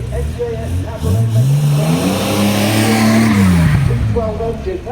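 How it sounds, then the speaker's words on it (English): A Jaguar XJS Cabriolet with a V12 engine racing on the Shelsley Walsh hill climb track, loud and close, its engine note climbing steadily as it accelerates, holding high, then falling away as it passes. "Great to see here is the XJS Cabriolet"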